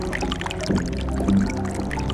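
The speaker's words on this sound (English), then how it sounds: "Water from the volcanic slopes above pours down here in the wet season." Water pouring down volcanic slopes in the Dinosaur World video game, a steady rushing flow with a low boat-like rumble, continuous and fairly loud across the whole moment.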